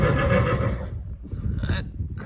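A horse whinnies loudly and close by in the first second, then a shorter second neigh follows near the end, with no talking over it.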